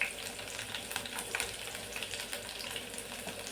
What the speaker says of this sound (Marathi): 3-4 लाल मिरच्या टाका आणि भरपूर लसूण टाकायचा आहे, बारीक असे तुकडे केलेला